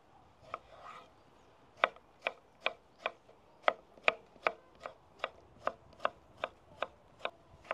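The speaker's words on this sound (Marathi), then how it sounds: "आपण आता ग्रेव्हीसाठी टमाटर कट करून घेऊ" Tomatoes being chopped on a board for a curry gravy: a steady series of about fifteen crisp, evenly spaced knife strikes, close and fairly quiet, with no talking.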